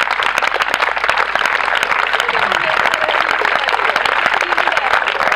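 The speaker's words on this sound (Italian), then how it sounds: "mi piacerebbe che gli facessimo un bellissimo applauso di ringraziamento" Gathered group applauding in thanks at a presidency handover ceremony, loud sustained clapping with many sharp individual claps throughout.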